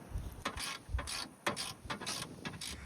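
Ratchet clicking in short bursts while tightening the four bolts that secure a new performance airbox on a Chevrolet Silverado, close and fairly quiet with brief pauses between strokes.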